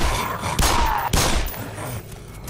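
Gunfire in the Black Mesa video game: two or three loud, close bursts of shots crack over a steady background hum, with a faint electronic tone running underneath.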